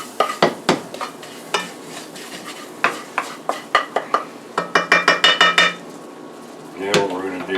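A brown roux for gumbo is stirred in a pot, with a spoon scraping and knocking against the metal in a quick, steady rhythm that speeds into a run of regular strokes, close and clear with no voices.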